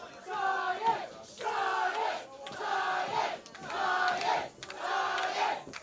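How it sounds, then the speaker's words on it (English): A large crowd chants a two-part slogan in unison during a televised sports and entertainment competition, five loud rhythmic repetitions separated by brief pauses. "the crowd is very much behind Dr. Talks, chanting his famous quote of "For Science.""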